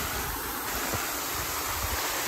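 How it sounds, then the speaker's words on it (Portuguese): Waterfall at a swimming spot, a constant loud rush of falling water filling the scene without pause, with no voices. "Olha a cachoeira aqui, ó."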